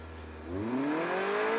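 Race cars rev at the start line of the Race of Champions 2018 in Riyadh, a low idle rising into a loud climbing engine whine that holds steady, with no talk.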